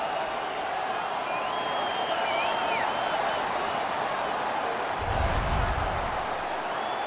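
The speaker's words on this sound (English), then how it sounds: "The crowd is so pumped right now" A packed arena crowd roars after a fight during an NHL 17 hockey game featuring the Vegas Golden Knights, a steady broadband wash of cheering with a few whistles and a deeper surge of noise near the end.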